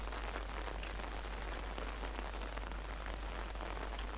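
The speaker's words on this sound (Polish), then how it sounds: "A tu deszcz pada, kurde." Steady rain falling in the Lost video game, a dense, even hiss of drops on surfaces continuing without a break and without voices.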